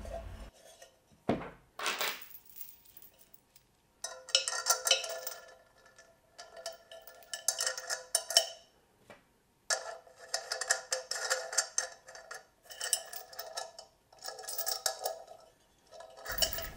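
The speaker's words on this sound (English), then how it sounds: "I'll now just put the chain back on." A metal chain being fitted back onto a flower pot candle heater, with quiet clinking and jingling of links in irregular bursts, close up, separated by short pauses and no speech.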